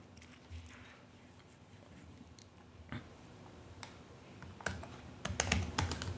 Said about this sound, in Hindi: यहाँ पे हम अपना यूज़र नेम और पासवर्ड लिखेंगे